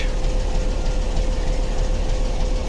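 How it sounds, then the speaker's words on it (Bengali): The Dolonchapa train stands at Shyampur railway station in Bangladesh, its engine giving a loud, steady low rumble with a constant humming tone and no break. "সান্তাহার থেকে ছেড়ে আসা পঞ্চগড় অভিমুখে দোলনচাপা যাবে।"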